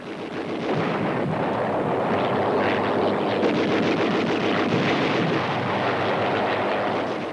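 Heavy cannon fire booms in a dense, continuous barrage, loud and rumbling throughout with no pauses or voices.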